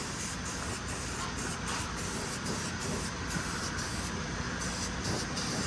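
Steady, continuous hiss of a powder coat spray gun coating a hot, freshly welded truck part for a 1965 Ford F100, loud and close throughout with a faint pulsing rhythm and no talking.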